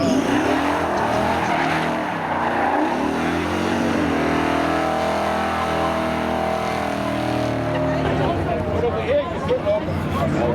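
Spectator drag race cars accelerate hard at Seekonk Speedway, engines roaring and revving loudly from start to finish while an announcer's voice commentates over the noise and a crowd murmurs in the background.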